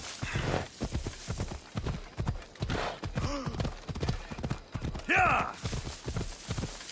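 Horse hooves clip-clop in a rapid gallop in Assassin's Creed Odyssey, steady and close, with a man cheering over the rhythm.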